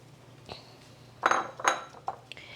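Tomatoes dropped into a kitchen bowl, giving a few clattering knocks and clinks of dish and utensil, with two louder bumps mid-way and smaller taps after, close and alone.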